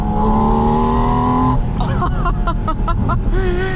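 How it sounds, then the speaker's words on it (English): A 2025 Porsche Spyder RS engine growls at low revs in third gear, steady and loud, with the pitch shifting as it pulls through the gear. "I love the lower RPM growl in like 3rd gear. Listen to this."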